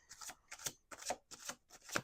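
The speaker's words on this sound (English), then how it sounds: "Two more shuffles." Tarot cards are shuffled in five quick riffling bursts with brief pauses between, close and fairly quiet.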